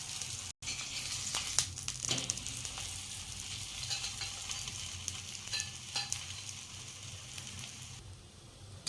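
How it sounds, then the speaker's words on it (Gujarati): Cabbage paratha roasts in oil on a pan with a steady close sizzle and crackle, with occasional sharper pops and scraping touches, and no talk. "બંને બાજુ આ રીતના લાલ થઈ જાય ત્યાં સુધી આપણે શેકવાના"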